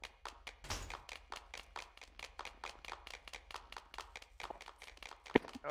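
A rapid series of sharp claps in a steady rhythm in the game GTA 5, continuing for several seconds, with one louder snap near the end.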